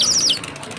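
A toy bird pops out of a cracked toy egg and gives a bright, high electronic chirp-warble for about a third of a second, close and loud, then fades into a quiet room.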